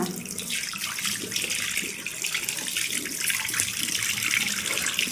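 Tap water runs steadily into a sink while someone washes their face, a continuous close splashing rush with no speech.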